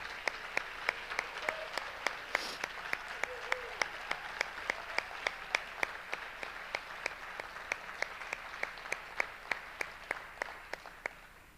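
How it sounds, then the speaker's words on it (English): Audience applause for honored Teachers of the Year at a 2021 school-district ceremony: steady, even claps with sharp, regular beats that hold at a constant level throughout. "Let's give all of them one last big round of applause."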